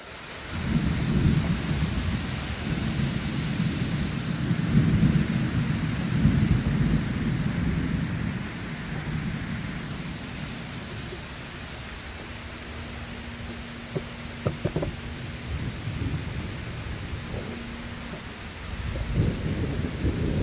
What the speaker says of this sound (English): You can hear the rain's picked up.